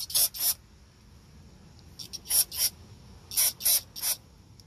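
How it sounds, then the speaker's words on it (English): Short bursts of brake cleaner are sprayed onto an oily engine connector on a 2017 Hyundai Elantra, heard as sharp hissing puffs: a pair at the start, then two clusters of quick sprays after a pause. "get a little brake cleaner. I'm gonna clean that connector."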